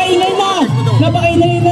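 A noisy crowd at an amateur basketball inter-color league game in the Philippines roars and whoops, loud and close, while a commentator keeps talking over the din.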